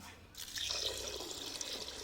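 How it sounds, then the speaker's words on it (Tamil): Water pours briefly into washed moong dal with a soft splashing, trickling sound, close by and fairly quiet. "பாசி பருப்பில் தண்ணி ஊற்றிக்கலாம்"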